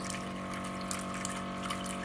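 An Aquasana countertop water filter dispenser flushes the system on its first run, giving a steady, continuous rush of pouring water over a constant pump hum, close and even throughout.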